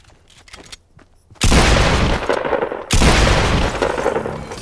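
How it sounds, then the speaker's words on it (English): Two heavy sniper rifle shots in Fortnite Mobile, each a sudden loud crack followed by a long rumbling decay, with faint clicks and handling noise before the first shot. "That's the sniper."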